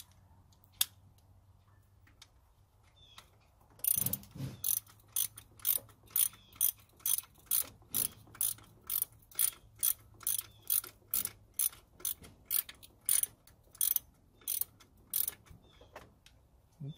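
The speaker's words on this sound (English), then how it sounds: "tighten the tensioner pulley." A ratchet wrench tightens the tensioner pulley on a power steering pump during installation on a Nissan D21 pickup, giving a steady run of sharp, close clicks in regular bursts after a quiet start, with no talking.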